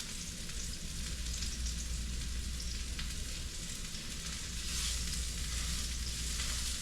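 A high-protein breakfast with seasonings fries in a pan, giving a loud, steady sizzle that runs unbroken throughout, with no talking.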